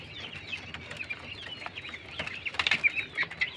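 Foreign quail chicks of a large European breed, weighing about 450 to 470 grams, moving about with soft wing flaps and faint high chirps and clucks, close by and fairly quiet, growing busier toward the end.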